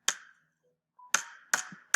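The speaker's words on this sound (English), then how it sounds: "A hammer." Three sharp, close hammer strikes ring out with a short metallic decay, separated by brief pauses.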